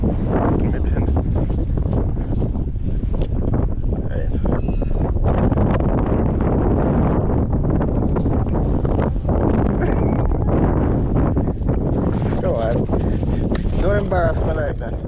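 Strong wind at a beach in Grand Cayman buffets the microphone in a constant roar, with faint voices and scattered noises underneath.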